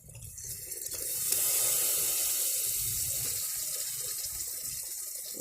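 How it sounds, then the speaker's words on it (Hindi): Water is poured into a cooking pan over thickened masala and garlic paste while mutton curry is being made, producing a steady, soft splashing stream that swells and then continues evenly, with no talking. "और थोड़ा सा पानी डाल देंगे"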